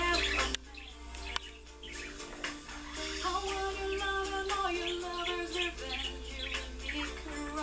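A pet bird chirps and tweets indoors, a busy run of bright, rapid calls and whistles that goes on almost without pause, close and fairly loud over a low steady hum.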